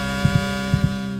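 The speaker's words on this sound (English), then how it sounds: "And your heart racing like crazy." A heartbeat thumps in steady lub-dub pairs, about three beats, close and muffled over a low, constant hum.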